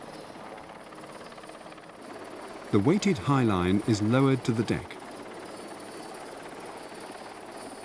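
A helicopter hovers over a ship at sea, its steady rotor drone running throughout beneath someone narrating.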